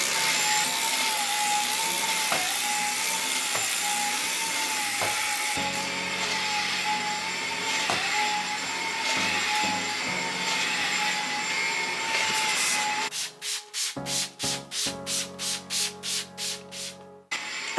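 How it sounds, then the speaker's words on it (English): A vacuum cleaner runs on household carpets with a steady high whine and airy roar, pitch dipping briefly as it moves, then switches into rapid pulsing bursts near the end. "I'm going to vacuum our carpets as well"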